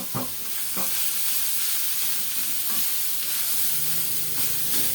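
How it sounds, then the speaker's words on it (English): Ground beef frying with aromatics in a pan for Filipino sweet spaghetti: a continuous close sizzle broken by a few sharp scraping stirs of a utensil, no voices. "we can now add our ground beef or giniling"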